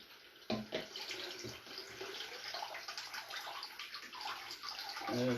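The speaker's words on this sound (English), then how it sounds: "You pour water over it." Water is poured from a tap over raw meat to wash it, a close, steady splashing stream that runs throughout, rising at the end, with no talk.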